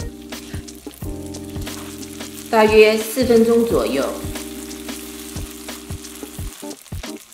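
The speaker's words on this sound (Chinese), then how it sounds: "豆干煎至黄棕色" Dried tofu pan-fries in about half a cup of oil in a large pot, giving a steady close sizzle that surges into louder crackling spatter midway, with a brief spoken voice over it.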